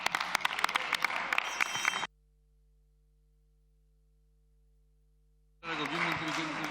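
Applause greets a guest at a municipal council session, a burst of close clapping that cuts off into near silence with a faint steady hum, then resumes loudly for the final second.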